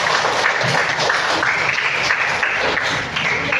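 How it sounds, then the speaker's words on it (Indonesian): A classroom audience claps for a student during a school guidance counseling session. The applause is dense, steady and fairly loud, and it holds evenly for several seconds. "Beri tepuk tangan dong buat Lutfi."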